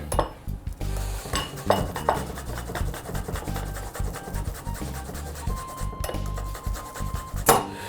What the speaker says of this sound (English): All right, so we're gonna grate that up.